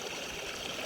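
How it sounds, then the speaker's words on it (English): A small mountain stream in Sweden flows steadily close by, a continuous rushing, bubbling wash of water with no other sounds. "These are the small streams up here."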